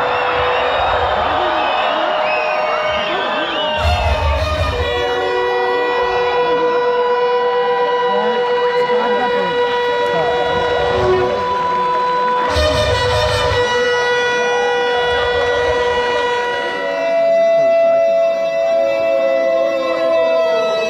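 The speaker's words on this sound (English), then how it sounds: "The crowd goes wild." A crowd at the India-Pakistan border ceremony roars and cheers loudly and continuously, with long siren-like whoops and sustained horn tones layered over the noise for the whole stretch.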